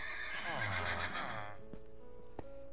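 A horse neighs in a Minecraft village: a loud, wavering whinny lasting over a second, followed by a few soft game clicks and taps.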